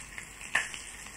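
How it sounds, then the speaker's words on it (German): Fat melting in a frying pan in a German children's cassette story, giving a soft steady sizzle with one brief brighter crackle near the middle. "Jetzt zerlassen wir etwas Fett in der Pfanne."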